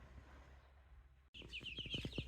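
Young chicks in a brooder start a burst of close, rapid high-pitched peeping and clucking after a quiet stretch, several calls overlapping in quick succession.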